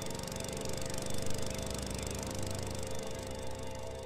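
A lawn mower's rattling engine in the video game Beyond Eyes, a steady buzzing drone with a fast mechanical rattle, continuous and fairly faint throughout.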